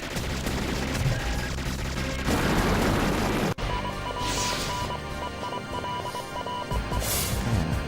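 Rapid gunfire and explosions from the 2000 Eighting/Raizing/Capcom arcade shoot-'em-up 1944: The Loop Master, with dense continuous shots, booms and game music filling the whole stretch, a brief cut midway.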